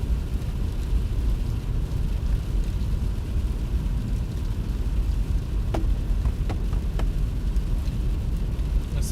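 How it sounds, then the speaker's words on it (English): Heavy rain pours down during a storm near Flagstaff, Arizona, a dense, constant roaring wash heard close and loud throughout, with a few faint ticks near the end. "Heavy rain."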